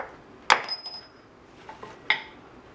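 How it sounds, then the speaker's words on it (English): A hammer strikes a splined bolt on a Ford Windstar rack and pinion, two sharp metallic whacks about a second and a half apart, close and ringing, in an otherwise quiet garage. "You can just whack it with the hammer now."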